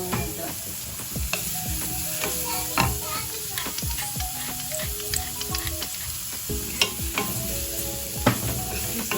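Food sizzles and fries in a pan while being stirred, with a steady hiss broken by frequent scraping and clinking of the utensil against the pan throughout.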